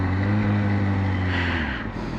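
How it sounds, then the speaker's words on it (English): A tractor passes on a road on a cold morning, heard from inside a moving car: a loud, close, steady low engine drone that eases slightly toward the end. "Tractor."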